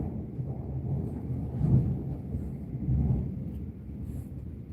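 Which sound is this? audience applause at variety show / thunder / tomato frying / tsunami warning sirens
thunder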